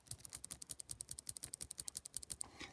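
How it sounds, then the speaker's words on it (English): A Pilot G-2 mechanical pencil's light-duty plastic mechanism clicks rapidly and steadily, roughly twenty crisp close-up clicks in quick succession with no talking. "So it's a light duty plasticky click."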